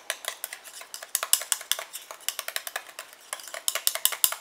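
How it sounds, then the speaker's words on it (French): A spoon stirs a homemade anti-aging cream mixture in a small container, producing a steady run of quick, crisp clicks and scrapes that repeats with only brief pauses and no voices. "Je mélange."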